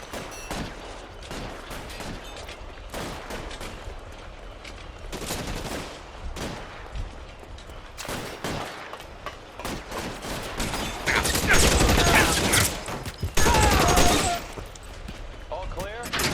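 Gunfire from a street shootout in L.A. Noire, a series of sharp shots scattered across the stretch with a heavier cluster of blasts near the end, under voices shouting.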